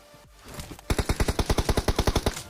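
DP light machine gun fired in a battle royale video game: a rapid, steady burst of about fifteen loud, evenly spaced shots following a brief quieter lead-in.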